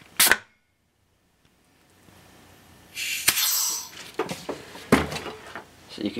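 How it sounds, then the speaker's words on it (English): Stuck brake caliper pistons forced out with compressed air, two pistons on the left side popping free: a sharp close pop near the start, then hissing air blasts and a second loud pop. "So you can hear the two free ones on the left side here pop out."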